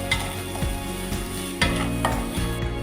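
Onions and spices for jeera rice sizzle in a pan while a spatula scrapes and stirs in a steady rhythm, close and continuous with no talk.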